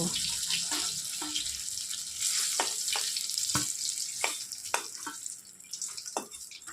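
Eggplant slices frying in oil until browned, making a steady broadband sizzle with intermittent sharp crackles and pops, close and moderately loud, with no voices.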